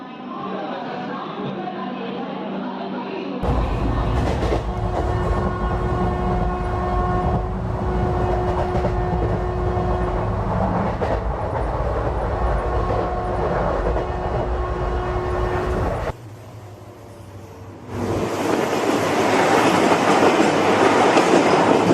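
A long-distance passenger train from Thane to Goa rolls along the rails with a loud, continuous rumble and rattle, a long horn tone sounding through much of it, close and steady.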